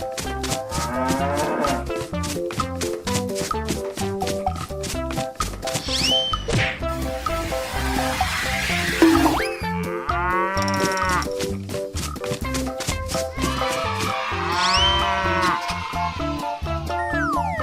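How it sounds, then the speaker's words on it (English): Cattle moo again and again, loud and near, with long drawn-out calls layered over a busy rhythmic musical backing. "Cow."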